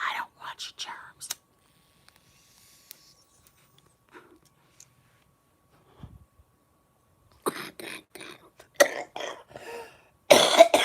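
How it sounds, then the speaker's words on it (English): A person lets out a few dramatic coughs and throat-clears, spaced apart and separated by quiet gaps, with soft whispery vocal sounds mixed in. "The cough is dramatic."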